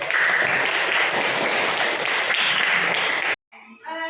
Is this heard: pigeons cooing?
no